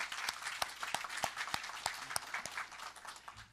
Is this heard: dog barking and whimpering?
no